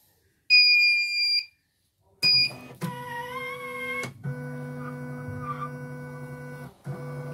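An embroidery machine that had been dead, with heavy turning and messy stitching, is switched on: a few electronic beeps, then a rising motor whine that settles into a steady mechanical hum, close and alone.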